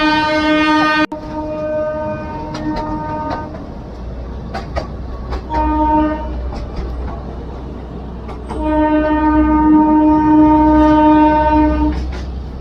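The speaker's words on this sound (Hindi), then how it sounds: "घरों के काफी नजदीक से गुजरती इस ट्रेन की आवाज कोसों तक गूंजती है।" A narrow gauge two-foot train on the Gwalior to Sabalgarh line sounds its horn in long repeated blasts while passing close to houses, with clattering wheels and rumbling cars between the loud, near whistle calls.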